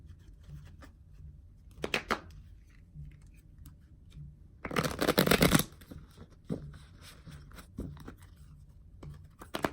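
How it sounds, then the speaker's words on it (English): Tarot cards are shuffled by hand in a quiet room: a few light riffles, then a dense, loud burst of flicking and fluttering cards lasting about a second, followed by softer scattered taps. "I'm going to pull another card for you guys."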